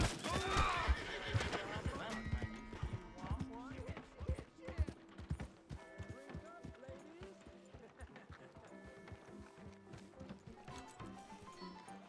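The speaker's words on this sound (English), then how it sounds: "Hey! My horse!" A horse whinnies loudly near the start in Red Dead Redemption 2, followed by clip-clopping hooves over a busy, music-laden game soundscape with occasional voices.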